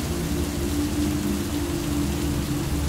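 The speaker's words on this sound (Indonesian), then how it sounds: "Hujan lebat disertai gemuruh petir tiada henti." Heavy rain pours steadily throughout a stormy night, a dense, unbroken hiss with a low rumbling undertone. No voices are heard.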